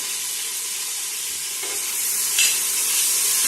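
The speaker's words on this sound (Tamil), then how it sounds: "போட்டுட்டு நல்லா வதக்கி விடணும்." Tomatoes sautéing in a pan for chicken biryani give a steady close sizzle and hiss, with a faint stir or scrape partway through.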